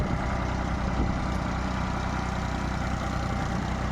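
A tractor running a rotavator through a sugarcane field gives a steady, continuous engine drone with no pauses, heard alone and fairly close.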